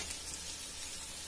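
Carrot and capsicum sauté in a hot pan for street-style chicken fried rice, a brief, even, close sizzle with no talk.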